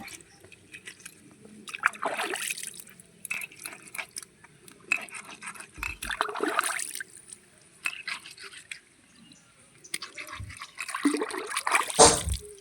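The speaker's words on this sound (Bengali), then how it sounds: "মাছগুলো আমার প্রায় মোটামুটি ধোয়া হয়ে এসেছে আর একটু বাকি আছে ধুয়ে নেব বাকিটা" Water splashes and drips in uneven bursts as fish are rinsed by hand, with close sloshing and trickling that comes and goes between short quieter gaps.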